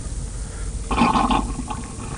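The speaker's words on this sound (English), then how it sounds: "you should hear some type of gurgle" A hydraulic jack sits upside down with its piston retracting, purging trapped air in a short, close gurgle of liquid that swells and fades over about half a second.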